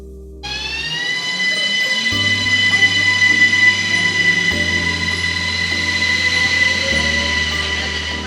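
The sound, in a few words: train starting from Salzburg to Werfen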